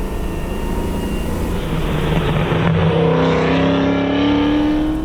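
An LS-swapped Subaru BRZ sports car gains speed under a light throttle touch, its V8 rising steadily in pitch from a low rumble to a strained whine, loud and close, with road and wind noise filling the background.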